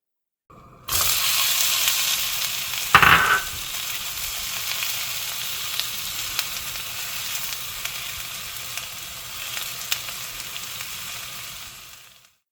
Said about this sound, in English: Let's hear that sizzle.